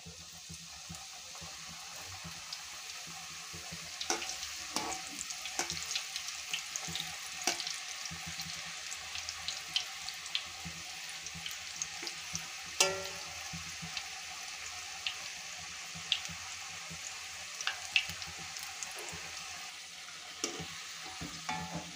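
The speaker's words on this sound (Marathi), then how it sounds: "तर तेल छान गरम झालेलं आहे, आता मी हे तेलामध्ये सोडत आहे" Chafekali mathri fry in hot oil as a soft, steady bubbling sizzle with scattered small pops and light stirring clicks, heard close and fairly quiet with no voices.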